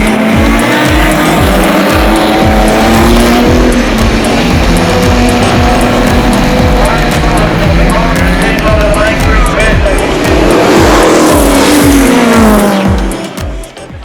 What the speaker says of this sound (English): 20 historic cars line up to do battle on the streets in the final feature race of the weekend.